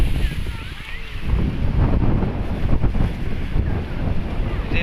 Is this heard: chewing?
no